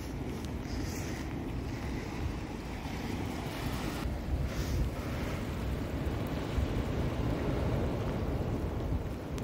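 Ocean waves breaking on a windswept shore in bad weather, a continuous roaring surf with gusty wind buffeting the microphone, loud and close throughout, no talking.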